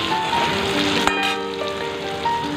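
Potatoes frying in a pan with salt and turmeric, a steady close sizzle and crackle with a brief stirring clatter partway through.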